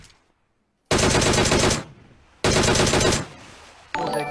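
Gunfire in PUBG Mobile: two long, loud bursts of rapid automatic fire, each lasting about a second, separated by a brief pause, with a third burst starting at the end.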